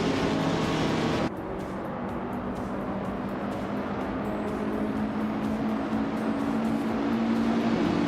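Vintage street cars, including a 1970 Porsche 914/6, launch off the start line in a racing video game, engines roaring loudly together, then settling into a sustained high, steady drone of revving motors.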